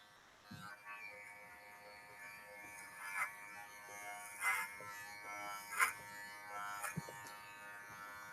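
Electric hair clippers buzz steadily during a salon haircut, a faint tonal hum broken by several short louder bursts as the blades bite into hair, no talk over it.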